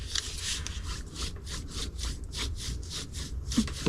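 A bone folder is rubbed along the score lines of a paper card treat box, making steady back-and-forth rasping strokes, close and fairly loud, with no talking over it.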